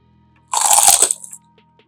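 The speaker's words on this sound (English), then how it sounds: "let's see if we can hear that crunch" A crispy air-fried garlic herb chicken wing gives one loud, close crunch as it is bitten, lasting under a second, then fades into quiet.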